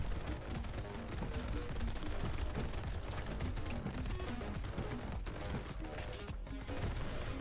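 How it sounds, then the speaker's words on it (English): Shotguns firing at enemies in the video game Brotato, a dense, continuous barrage of overlapping gunshots and impacts that keeps a constant loud level with scarcely any gap throughout. "we're shooting enemies that aren't even on the screen yet"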